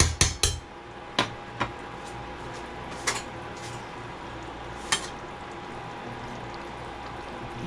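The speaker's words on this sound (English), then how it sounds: "we're gonna give it a stir and taste again" Chicken stew gets stirred in a pot, with several sharp spoon knocks against the metal at the start and a few more scattered through a quiet simmering background.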